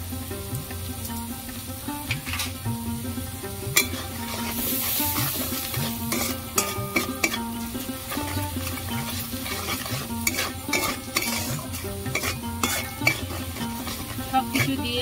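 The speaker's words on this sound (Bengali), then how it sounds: "সবকিছু দিয়ে আমি নাড়াচাড়া করে নিয়েছি।" Spiced taro leaf curry with turmeric, chilli powder, salt and sugar sizzles in a pan while a utensil stirs and scrapes it, with repeated sharp clinks against the metal over a steady frying hiss.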